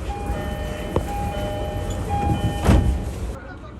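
A JR train pulls away from Higashi-Hanno station with a steady low rumble, a faint whine and a thump partway through. A voice talks over the running noise.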